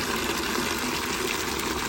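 Water pours from a cup onto young plants in a steady, close gushing trickle that runs unbroken for a couple of seconds, with no talking.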